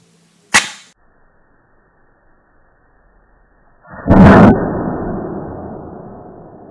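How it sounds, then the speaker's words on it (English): Hydrogen gas made from magnesium ribbon and hydrochloric acid ignites with a match: a sharp pop near 0.6 s, then after a pause a loud whooshing bang around 4 s that trails into a sustained rushing roar. "It exploded in my hands."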